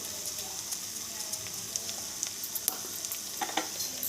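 Cumin, coriander and other spices fry in a hot pan, a soft steady sizzle with scattered crackles and light stirring clicks close by.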